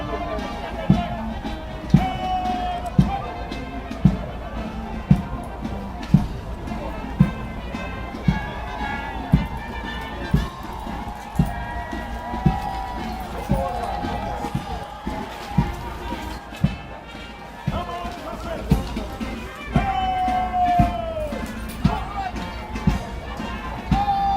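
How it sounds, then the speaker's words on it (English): Soldiers in quick march at a Saint Lucia Independence military parade stamp out a regular, evenly spaced beat of footfalls, heard under a commentator's talk and a murmuring crowd. "here comes the quick march"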